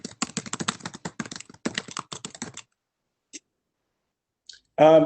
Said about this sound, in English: Someone is not muted and they're typing.